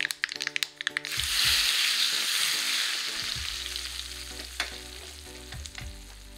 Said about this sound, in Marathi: तीळ टाकायचे, लाल मिरची टाकायची आणि असा हा छान तडका आपल्या भाजीवर द्यायचा आहे आपल्याला.